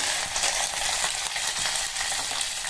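Curry leaves frying in hot tempering oil for a cucumber chutney, a loud, dense, steady sizzle and crackle close up with no voices.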